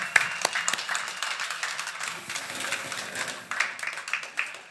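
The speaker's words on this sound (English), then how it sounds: "give them a round of applause to acknowledge the mahi they've put in to make today happen" An audience at a showcase event applauds steadily, a moderate wash of many hands clapping at some distance, with occasional sharper claps standing out.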